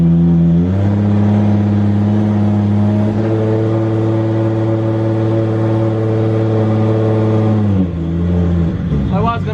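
A BMW E21 engine running on ethanol-based fuel rises in pitch as it revs, holds a steady high drone, then drops back to a lower idle, loud and close with no talk.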